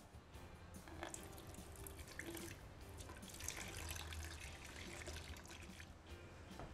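Beer finings liquid pours steadily into beer in a fermenter with a trickling, splashing wash, fairly quiet and close, running continuously without any talking.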